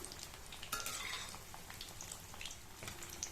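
Banana flower vadas fry in hot oil over a medium flame as they are flipped one by one. The sizzle is soft and crackly, with faint utensil clinks and scrapes.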